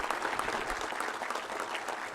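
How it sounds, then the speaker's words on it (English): An audience at a nursing shift pinning ceremony claps warmly, a brief, even burst of applause. "Please, let's give them a round of applause."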